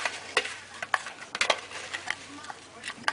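Dry tub tea ingredients being mixed by hand in a bowl: scattered soft rustles and light clinks, irregular and close, with quiet talk at times.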